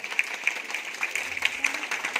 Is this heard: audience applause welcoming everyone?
yes